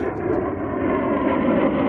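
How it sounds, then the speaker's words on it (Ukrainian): A fighter jet flies fairly low overhead in open countryside at sunset, giving a continuous loud roaring rumble that holds steady and slightly builds across the short clip, with no voices. "А от і винищувач."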